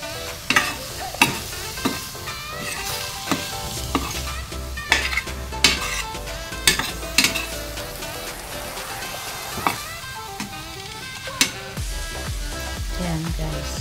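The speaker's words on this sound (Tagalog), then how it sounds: "Haluin natin." Chicken curry fries in a pan while a spoon stirs it, a steady bed of sizzling broken by repeated scraping clinks of the utensil against the pan, close and fairly loud, with no talk.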